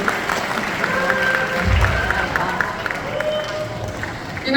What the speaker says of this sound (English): could you guys all give the performance of the parade another round of applause, please?